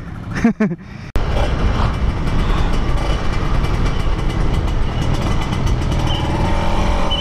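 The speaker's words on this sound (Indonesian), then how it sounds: "Beres ngelas, lanjut ngetes motor lagi." Kawasaki Ninja 150 motorcycle engine running steadily during a test after welding work, a continuous loud mechanical drone that starts abruptly after a brief spoken moment and holds for about six seconds.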